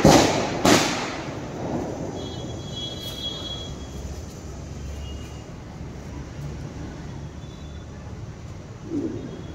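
A sutli bomb firecracker goes off during outdoor Diwali celebrations, a sharp loud blast at the start followed by a fainter thump, then ambient noise and distant crackles with voices in the background.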